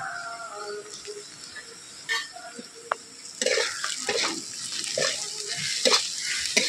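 Salt, turmeric, ground coriander-cumin and Kashmiri chilli powder are stirred into mashed pointed gourd in a pan, with soft sizzling, scattered utensil clicks and scraping that grow busier and louder partway through.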